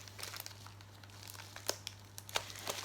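Crinkling of plastic wrap as a plastic-wrapped envelope in packaging is tugged, with soft irregular crackles and a few sharper snaps, close and quiet over a steady low hum.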